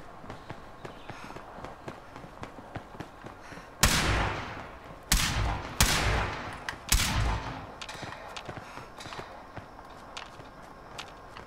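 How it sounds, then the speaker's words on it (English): Several loud gunshot bursts crack out in quick succession in Fallout 76, separated by short pauses, over a low ambient rumble and faint footsteps. "I hear gunfire."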